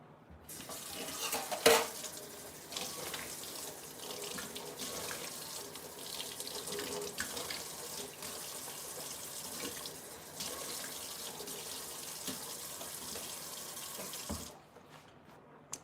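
Tap water runs steadily into a sink while someone rinses their mouth, a close, continuous splashing stream with a few clinks and gurgles, stopping near the end.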